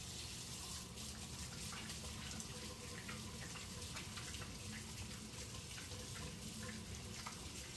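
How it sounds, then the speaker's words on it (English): A kitchen tap runs steadily while hands are washed beneath it, a constant close splashing water rush lasting throughout with no talk. "Now I desperately need to wash my little mitts."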